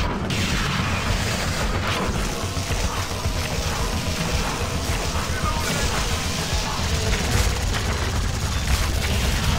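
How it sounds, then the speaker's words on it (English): A hand cannon fires in the tower-defense shooter Sanctum 2: rapid, dense bursts of booming gunfire run together with a roaring game soundscape, loud and continuous throughout, with no speech. "This hand cannon's doing a really good job, though."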